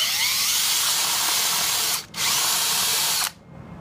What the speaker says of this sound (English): I'm using a 1/2 inch spade bit here, and I'm just gonna drill in a little bit.